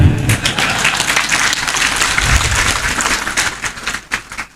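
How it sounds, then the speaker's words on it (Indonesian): Audience clapping at an Indonesian religious talk, a dense burst of applause that thins out and trails into scattered claps toward the end. "Kenapa Anda tepuk tangannya ragu-ragu?"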